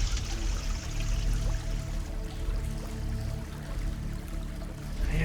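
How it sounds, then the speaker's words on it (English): Water splashes and churns around someone wading on their knees through an ancient Hadrianic aqueduct, a close, continuous rushing slosh echoing under the vaulted stone ceiling. "I'm having to go actually down on my knees right into the water"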